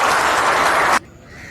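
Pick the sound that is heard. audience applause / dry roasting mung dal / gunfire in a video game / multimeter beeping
audience applause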